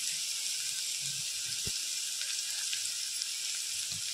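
Chopped onion sautéing in a pan for Maharashtrian tomato chutney gives a steady, fairly soft sizzle and hiss that runs unbroken for a few seconds, with one faint clink partway through and no voices.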